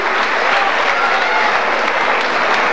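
A loud, continuous round of applause from a crowd at a Huracán anniversary celebration honours goalkeeper Julio Gaglini, many hands clapping close and steady throughout.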